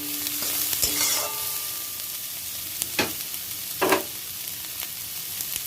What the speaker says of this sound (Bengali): পেঁয়াজটা আমার ভাজা হয়ে গেছে, আমি উচ্ছেগুলো দিয়ে দিলাম পেঁয়াজের মধ্যে